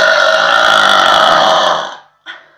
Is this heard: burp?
yes